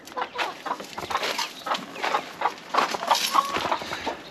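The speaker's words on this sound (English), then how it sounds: "So they're squawking." Backyard chickens cluck and squawk in a steady, busy stream of overlapping calls, fairly close and continuous with no talking.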